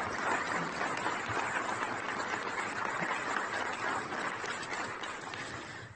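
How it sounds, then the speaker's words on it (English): Soft, steady applause from a seated audience after a talk at a 2018 plaque unveiling event, broadband clapping sustained for the whole stretch and fading slightly near the end, fairly quiet and distant with no voices standing out. "Yes, please, more rounds of applause,"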